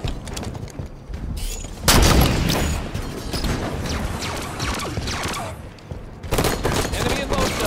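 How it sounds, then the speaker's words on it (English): Grenade blasts and gunfire in the Halo 5 video game: sudden loud booms at about two seconds and again near six seconds, over continuous busy firefight noise with shots and thuds. "A grenade!"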